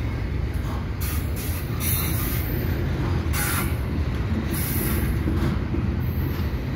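A long CPKC eastbound intermodal freight train, mostly double-stack containers with auto racks near the end, rolls past near Dorval with a steady, close rumble of wheels and cars and faint higher squeals, without pause.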